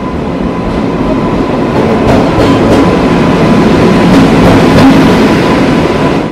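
A train runs on the narrow-gauge line at Siliguri's toy train station for the Darjeeling railway, producing a loud, close, continuous rumble with rhythmic clicking of wheels and a faint steady whine.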